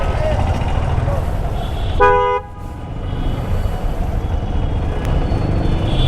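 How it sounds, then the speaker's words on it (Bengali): A car horn honks once in busy road traffic, a short, loud toot over a constant roar of engines and street noise. "তাকে হর্ন দিলাম তিন চারবার যেটা আপনারা ভিডিওতে শুনতে পেয়েছেন"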